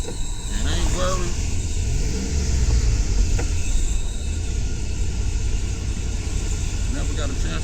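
A car that is not fully repaired hums along while being driven, a steady low engine rumble with road noise throughout and brief voices underneath.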